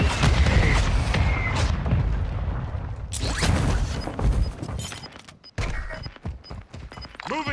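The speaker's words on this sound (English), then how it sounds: "Throwing grenade!" A grenade goes off in a multiplayer shooter video game amid a dense, loud rumble of gunfire and impacts, followed by a sharp, broadband blast midway and more scattered thuds and cracks near the end.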